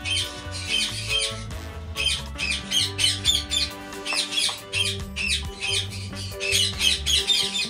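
Indian ringneck and green-cheeked conure parrots squawk loudly and repeatedly close by, harsh screeching calls in rapid bursts overlapping one another throughout, with a steady tonal hum underneath.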